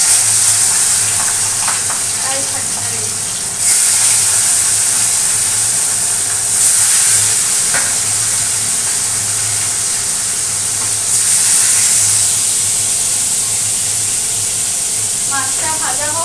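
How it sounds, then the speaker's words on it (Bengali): Fish frying in a pan of hot oil, a steady broadband sizzle running throughout with soft clinks and faint background voices at moments. "মাছটা ভাজা হোক"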